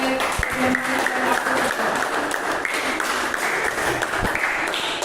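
A classroom group receives a round of applause, with dense, continuous clapping from many hands filling the room and some voices mixed in beneath it.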